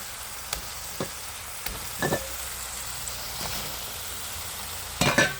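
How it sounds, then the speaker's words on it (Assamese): Fried eggs and potatoes sizzle steadily in hot spiced oil for egg curry, a constant close frying hiss with occasional stirring clinks and scrapes, no talking. "এতিয়া মই ইয়াতে ভাজি থোৱা ডিমকেইটা আৰু আলুখিনি দি দিলোঁ"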